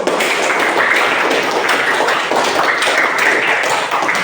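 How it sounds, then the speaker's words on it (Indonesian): Schoolchildren in an Indonesian classroom clapping together in a loud, dense burst of hand claps that stays strong and steady throughout. "Tepuk tangan yang gemuruh."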